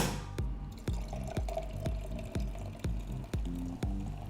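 Aperol and dry sparkling wine are poured into a glass at a bar, with a steady run of rhythmic glugging drips close by.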